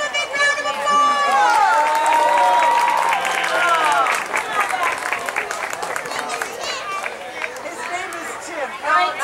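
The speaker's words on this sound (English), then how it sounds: "Give him a big round of applause" A comedy show crowd applauds and cheers, with clapping, whoops and excited chatter running together throughout and loud voices shouting over it close by.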